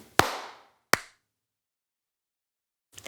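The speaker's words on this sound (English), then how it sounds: "You want to do the clap?" A pair of sharp, single hand claps about a second apart, close and crisp with short decay, and a fainter third tap near the end in an otherwise quiet room.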